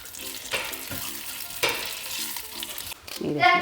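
Dried red chillies sizzle in hot oil in a pan with cashews while being stirred, a steady close frying crackle with brief louder scraping bursts of the spoon.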